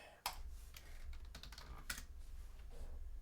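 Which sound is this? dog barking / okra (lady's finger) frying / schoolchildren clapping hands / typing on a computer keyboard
typing on a computer keyboard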